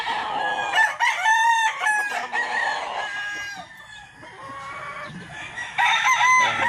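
Gamefowl rooster, a sweater crossed with blue face hatch, crowing loudly and close with repeated cock-a-doodle-doo calls, other fowl crowing and clucking nearby in a busy morning yard.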